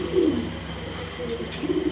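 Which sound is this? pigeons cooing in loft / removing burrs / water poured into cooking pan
pigeons cooing in loft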